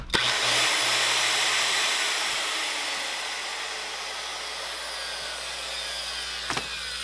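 A Makita 5007F circular saw running steadily after a cord replacement, a loud close motor whine starting abruptly and holding an even tone, easing slightly in pitch over several seconds, with no talk.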